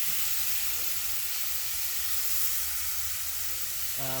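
Beef tips sizzling on a Blackstone griddle, spread out and searing in a steady, even hiss that runs unbroken throughout, close and fairly loud, with no talking.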